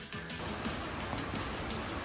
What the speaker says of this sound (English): first rain of the trip.